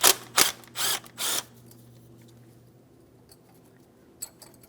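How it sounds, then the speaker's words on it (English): Ratchet working loose a 10mm mounting bolt on a brake flex hose bracket of a 2007-2014 GMC Sierra 2500 HD: four loud bursts of rapid clicking in the first second and a half, then quiet with a faint tick near the end. "Just go ahead and remove your 10mm headed mounting bolt."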